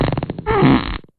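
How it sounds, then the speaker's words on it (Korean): A long, loud, sputtering fart sound effect lasting about a second, with a rippling buzz that swells in the middle and then cuts off abruptly, heard alone. "방귀를 뀌었어요"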